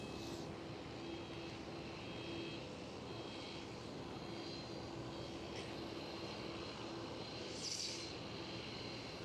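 A KLM Airbus A321neo lands at Schiphol, producing a steady, distant engine roar that holds at an even level throughout with no voices.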